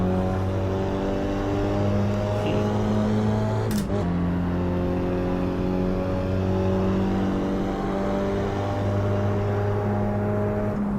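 Race car engine in the Assetto Corsa EVO driving game, played in VR, holding a loud sustained rev with a strong steady tone, briefly broken by a quick gear-shift cut before droning on.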